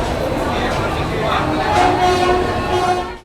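Indian Railways Yuva Express rake with new LHB coaches during shunting at a station, a steady broadband rumble of rolling stock and ambient platform noise throughout, with brief tonal squeals or horn-like tones mid-clip.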